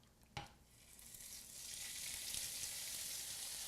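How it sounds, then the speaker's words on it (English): Chicken is laid into a hot pan and begins to sizzle, with a soft thump early on and then a steady, rising hiss of frying that carries on with no one talking. "while that's cooking, we're going to begin to cook our chicken"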